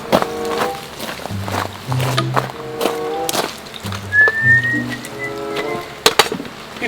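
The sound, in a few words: person whistling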